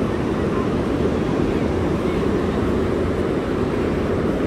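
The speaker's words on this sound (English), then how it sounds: "Splashing around in the waves." Ocean surf rolls steadily at Cannon Beach, a continuous loud wash of breaking waves with wind buffeting the microphone; a dog's splashing is not distinct within the surf.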